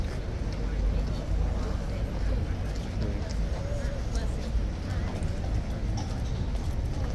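Horse hooves clip-clop on pavement during a King's Guard change in London, with a busy crowd chattering loudly around them and the hoofbeats partly buried in the noise.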